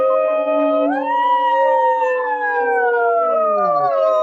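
Several people howl together in imitation of wolves, their long overlapping voices rising and sliding in pitch, loud and close, with one voice dropping away near the end.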